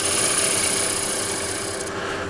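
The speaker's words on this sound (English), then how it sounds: "use a shear scraper to clean it nice and" A shear scraper glides across the bottom of a wooden tray turning on a lathe, giving a steady, close rasping scrape with a thin high whine running through it, ending slightly softer.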